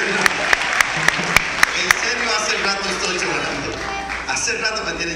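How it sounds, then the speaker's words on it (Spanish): Applause for Don Marvin at a civic ceremony: a steady patter of clapping from the audience, with a few sharp, close claps near the start. "Un aplauso."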